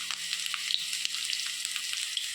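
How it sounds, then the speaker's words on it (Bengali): Potatoes for a fish dish fry in oil in a wok, giving a steady, close sizzle and crackle with a few soft clinks of stirring. No one speaks. "এদিকে মাছের আলু ভাজছি, কড়াইয়ে দিয়ে দিলাম, আলুটা ভাজা হোক"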